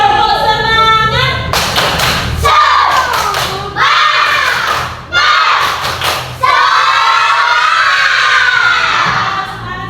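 A class of schoolchildren claps a rhythmic spirit clap together, with sharp bursts of clapping, thuds and excited shouting filling the room, loud and close throughout with brief pauses between the clapping patterns.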